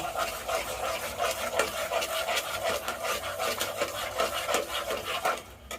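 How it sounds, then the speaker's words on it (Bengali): Chicken with turmeric, cumin, salt and chili powder stirred in a pan, with repeated scraping and rubbing strokes of a spoon against the pan in an uneven rhythm, close and clear. "তারপরে সুন্দর মতো নেড়ে দেব।"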